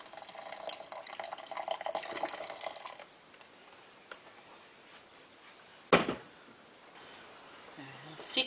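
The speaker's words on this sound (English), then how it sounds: "Pour your water up to the top of your baffle" Water poured into a yogurt maker, filling it up to the top of the baffle for homemade goat's milk yoghurt: a steady, close running pour for about three seconds, then quieter handling sounds with a sharp knock near the middle.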